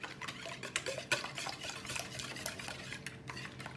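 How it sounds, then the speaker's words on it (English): A spoon stirs a breakfast egg hash around a pan, scraping and clicking steadily over a soft sizzle of frying, close but fairly quiet, with a single brief spoken word. "And then just go ahead and mix it up."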